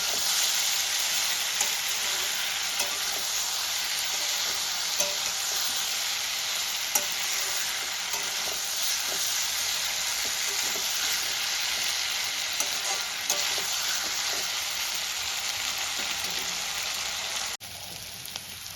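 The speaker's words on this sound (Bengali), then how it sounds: "আমি হালকা করে নেড়ে দেবো" Potato, cauliflower and pea curry sizzles steadily in a pan while being gently stirred, a continuous close frying hiss with small scraping ticks and no voices.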